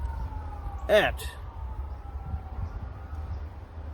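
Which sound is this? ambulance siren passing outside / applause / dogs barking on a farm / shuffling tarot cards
ambulance siren passing outside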